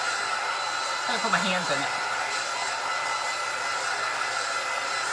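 A hair dryer blows steadily at close range to dry Rub 'n Buff finish on a Dollar Tree carrot craft sign, a loud even whoosh throughout, with a person briefly speaking over it.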